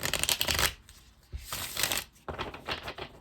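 Tarot cards shuffled loudly and up close in bursts of rapid papery riffling, with brief pauses between rounds and no talking.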